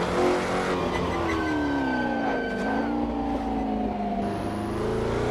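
A Porsche 904/8 race car with a 2-liter engine drives hard during a Targa Florio run, its engine note loud and continuous, pitch rising and falling through gear changes and acceleration.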